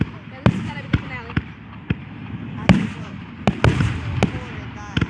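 Fourth of July fireworks finale, a rapid series of sharp bangs and crackling bursts at uneven intervals, moderately distant, with people talking and reacting underneath.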